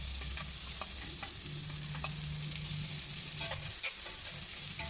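Chopped onions and cumin seeds sauté in hot oil with a steady, hissing sizzle, and a spatula scrapes and taps now and then, close by and with no voices.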